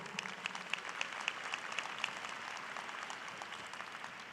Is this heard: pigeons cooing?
no